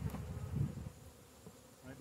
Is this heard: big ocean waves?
no